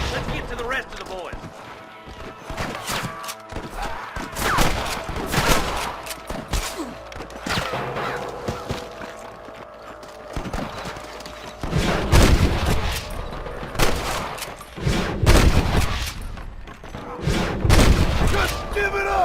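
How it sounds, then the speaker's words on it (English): Gunfire in a Western shootout in the Red Dead Redemption video game: repeated bursts of shots and booms that swell and fade over about twenty seconds, mixed with voices calling out. "Damn fine shooting, boys."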